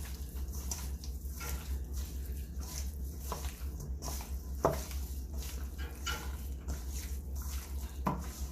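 Chicken coated with curry powder is stirred in a pot, making soft, wet squishing and scraping sounds at an irregular pace over a low steady hum, fairly quiet and close.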